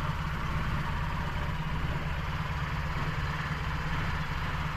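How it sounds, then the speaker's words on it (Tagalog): An owner-type jeep's engine idles steadily with a low, even rumble throughout, close by and continuous, with no voices. "Paanda rin natin para makita yung makina."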